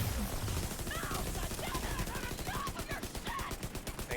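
Rapid automatic gunfire from a Division 2 raid boss fight against Iron Horse, a dense stream of close shots running through the whole stretch, with faint squad voices mixed underneath.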